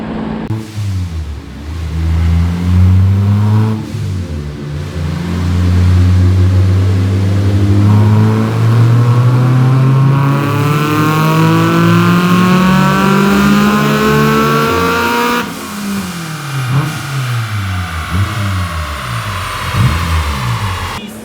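A supercharged Honda S2000 four-cylinder engine revs hard on a dyno, rising in long loud pulls, easing off and climbing again through repeated runs, close and dominant with no voices.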